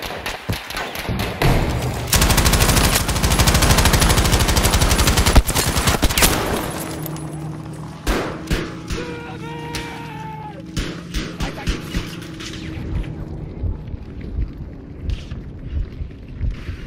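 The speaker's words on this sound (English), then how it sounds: "A grenade!" Battlefield V combat: a dense, loud barrage of gunfire and blasts rolls on for several seconds, then thins into scattered shots, thuds and impacts over a noisy battlefield background.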